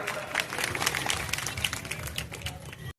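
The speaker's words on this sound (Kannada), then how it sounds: "ಜೋರಾಗಿ ಚಪ್ಪಾಳೆಯನ್ನು ತಟ್ಟಬೇಕು ಎಲ್ಲರೂ ಕೂಡ." A crowd claps loudly at a groundbreaking ceremony at the Kalikadevi temple in Kalakeri, a dense, continuous patter of many hands close by that cuts off abruptly at the end.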